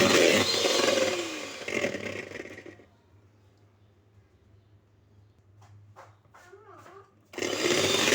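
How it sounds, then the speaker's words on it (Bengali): An electric beater whirs at high speed through a homemade chocolate ice cream mixture of cream and cocoa powder, loud and buzzing at first, dropping to near quiet in the middle, then surging back at the end. "অবশ্যই আমি হাই স্পিডে বিট করব।"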